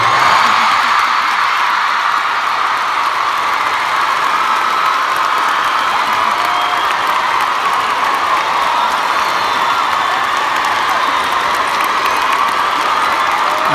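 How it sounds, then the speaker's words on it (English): A large concert crowd at the SSE Hydro arena in Glasgow applauds and cheers for the old Irn Bru recipe, a steady roar of clapping and whooping that stays loud and unbroken throughout. "I'd like just maybe a 10 second round of applause for the old Iron Brew"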